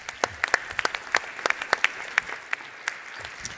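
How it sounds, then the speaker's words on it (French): A small audience at an aviation federation general assembly awards ceremony claps, sparse distinct handclaps at an uneven rhythm, close and fairly loud, with no voices over them. "On peut l'applaudir."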